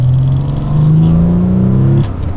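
Loud, close engine drone of a Porsche 993 Carrera 4S cruising back roads, a steady tone rising slightly under load before easing off near the end.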